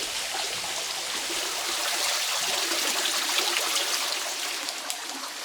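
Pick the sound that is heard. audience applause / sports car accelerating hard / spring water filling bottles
spring water filling bottles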